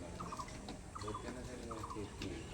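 Pigeons coo in three short, warbling bursts at a steady rhythm, fairly close, over a low background hum.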